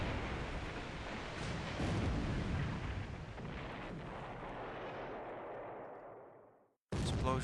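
Naval gunfire and explosions in the War in the Pacific strategy game roar as a dense, sustained rumble that slowly fades out, followed by a brief fresh burst at the end.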